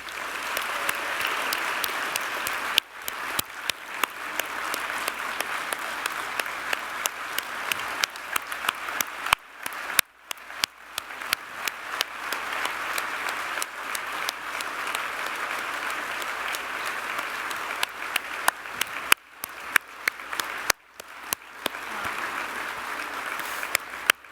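A large crowd at the Hope for Humanity 2025 event applauds for over twenty seconds, a sustained, fairly even roar of clapping with a few brief dips and scattered louder claps.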